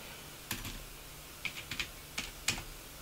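Quiet keystrokes on a computer keyboard while entering a command, several irregular taps and short clusters spaced over a few seconds, close and soft with no talking.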